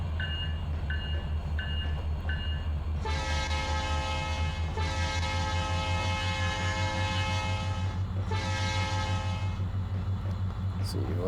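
Locomotive sounds from the Trainz 2022 simulator with a Midwest grain train: a steady low diesel engine rumble underneath, with a few short toots early on and then long blasts of the horn.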